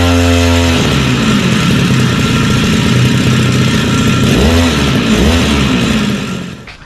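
A motorcycle engine runs after its spark plug was cleaned, buzzing loudly and close, with a couple of quick revs before fading out at the end.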